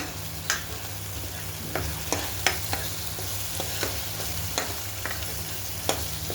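Continuous hot-oil sizzle of tempering for a spicy amti, with scattered sharp pops and crackles spitting irregularly throughout, fairly close and unbroken by any voices.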